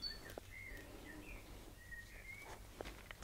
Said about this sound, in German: Auch vielleicht hörst du das im Garten, das Gezwitscher